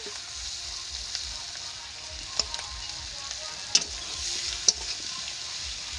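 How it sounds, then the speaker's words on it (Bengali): Pointed gourd and prawns frying in a wok, a soft continuous sizzle with a few sharp scrapes and taps of a spoon stirring against the metal, close by and moderately quiet. "যে পটলটা ভেজে রেখেছিলাম সেইটা দিয়ে দিলাম কড়ার মধ্যে, দিয়ে ভালো করে কষে নেব।"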